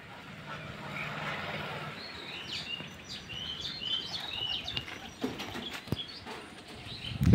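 Pigeons gather at a feeding spot, giving soft chirps and faint coos over a low outdoor background. The calls are moderately distant and scattered, with a few brief knocks and a louder thump at the end.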